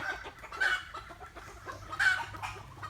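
Chickens cluck on a rural Thai bamboo farm where chickens are raised. A few short, moderately close clucks stand out over soft outdoor background noise.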